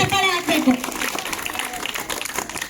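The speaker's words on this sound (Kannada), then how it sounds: "ಜೋರಾದಂತ ಚಪ್ಪಾಳೆ ಹಾಕ್ಬೇಕು." Children in an outdoor audience clap at a street play, a brief burst of applause under a voice talking over it, fading as the speech continues.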